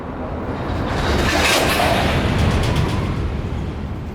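Freight train cars slam together as a mixed consist is shoved into a rail yard on the Palmetto Subdivision: a loud, heavy bang followed by a broad, rumbling clatter of couplers that sustains for several seconds.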